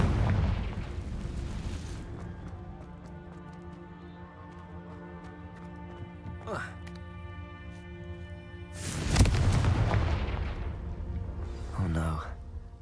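A Confringo fire spell in Hogwarts Legacy bursts into a loud, broad explosion, followed by a second shorter blast, both heard over continuous game music.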